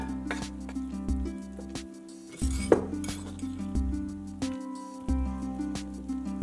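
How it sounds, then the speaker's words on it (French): Eggs, milk, oil and spinach being mixed in a bowl, with a utensil clinking and scraping against the dish in irregular knocks and taps, close by and fairly quiet. "vous mélangez bien le tout."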